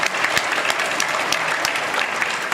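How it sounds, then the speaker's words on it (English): A convention panel audience applauds Dragon Ball Z cosplayers, with loud, dense clapping that holds steady through the whole stretch and has no voices over it. "Let's give these guys a round of applause."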